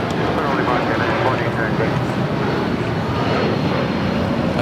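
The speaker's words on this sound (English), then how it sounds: "That's a 757-300 heading to Denver, flight 2089" A Boeing 757-300 airliner at LAX, departing as a Denver flight, gives a steady broad engine roar that holds at constant loudness with distant speech mixed underneath.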